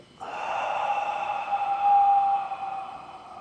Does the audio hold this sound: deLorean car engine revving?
no